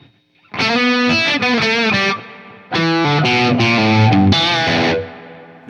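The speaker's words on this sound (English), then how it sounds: "A setting I really like is the room on the Ventris." Electric guitar played through the room reverb setting of a Source Audio Ventris pedal, with distorted, chorused chords ringing out in two loud phrases separated by a brief gap and a decaying tail.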